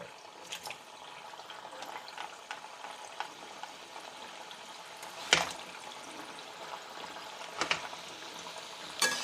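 Shankarpali dough pieces fry in hot oil over a medium gas flame, a faint, even bubbling hiss with occasional sharper crackles and a few louder clinks, heard close and without talk.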